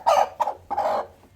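A hen clucks in a village yard where hens lay eggs, three short clucks in a row, close and fairly loud, with no voices.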